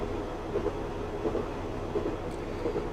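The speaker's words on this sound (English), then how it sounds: "We've made a step 2 brake application to bring our speed off quite nicely." A simulated train coasts along with a steady low rumble and faint rhythmic wheel thumps while braking lightly on the Norwich to Great Yarmouth line.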